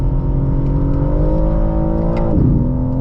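A 2025 BMW M4 CS engine pulls hard through a tightening corner, a loud, steady close-up drone that rises gradually in pitch, then dips and recovers sharply as power is applied and the rear steps out.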